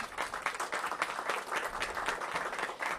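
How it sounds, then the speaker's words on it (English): Audience applause at a hospital partnership announcement, dense steady clapping from a crowd throughout, moderately distant and fairly even in level. "Give Chris a big round of applause."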